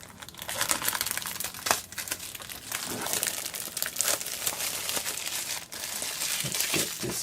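Packaging on an iPhone 5s box is cut and pulled open, giving steady close crinkling and tearing of plastic and paper for several seconds, with no talk.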